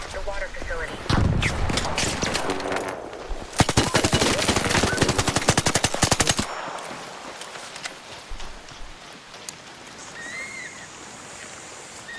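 Gunfire in the video game ARC Raiders crackles in dense, fast automatic bursts for several seconds, loud and close, then stops, leaving quieter ambience while a voice talks over it.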